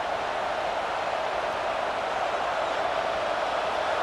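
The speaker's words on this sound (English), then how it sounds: "And with this place rocking, the crowd forces a false start." College football stadium crowd roaring during a game, a dense, constant wall of noise that holds steady and loud throughout with no breaks.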